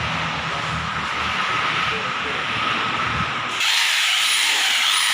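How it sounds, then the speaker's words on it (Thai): A polishing machine buffs a car's painted body during the gloss-polishing stage, a loud continuous whirring hiss that shifts to a brighter, higher-pitched tone near the end, close and steady without pause. "แล้วก็มาขัดเป็นขั้นตอนที่สามครับก็คือการขัดเงานะครับ"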